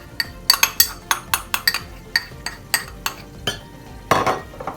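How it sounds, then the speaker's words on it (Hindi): A spoon stirs and knocks against a bowl while kebab ingredients with chicken powder are mixed, giving a steady series of sharp clinks and scrapes, close and crisp, ending in a brief rougher scrape. "तो इन सबको मिक्स करते हैं।"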